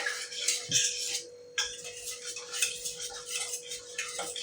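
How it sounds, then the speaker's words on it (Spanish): Egg being whisked in a bowl for tempura batter during a children's cooking session, a steady run of light metallic clinks and scrapes close by with no talk over it. "Lo que tenemos que hacer ahora es mezclar el huevo"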